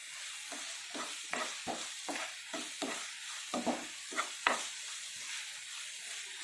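Ginger garlic paste fries with a low sizzle as a spoon or spatula stirs it around the pan, giving a string of scraping, tapping strokes every half second or so, close and unaccompanied by speech.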